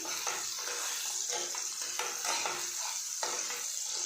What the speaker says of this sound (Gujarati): મરચાં સંતળાઈ જાય એટલે આપણે તેની અંદર જે સમારેલી ડુંગળી હતી તે નાખીશું મિક્સ કરી લઈશું